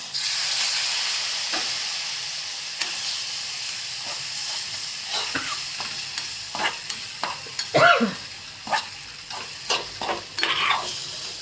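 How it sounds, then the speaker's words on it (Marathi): Spiced masala for a dried lentil-dumpling curry sizzles and hisses in a pan after a splash of water, with scattered close scraping stirs that grow more frequent toward the end. "थोडंसं पाणी टाकते त्याच्यामध्ये मसाला जळू नये म्हणून"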